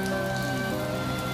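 Steady rain falls and patters on surfaces in a continuous, even wash of sound with no voices.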